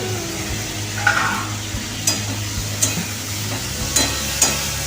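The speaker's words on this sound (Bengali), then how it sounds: "সবজিটা ভাজছে" Vegetables fry in a pan in a home kitchen. A steady sizzle runs underneath while a metal spatula clinks and scrapes against the pan every second or so, close and clear.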